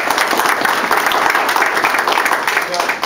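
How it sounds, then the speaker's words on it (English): Audience applause at a middle school arts event, steady dense clapping filling the whole stretch at close range, loud and continuous throughout. "Give him a big round of applause."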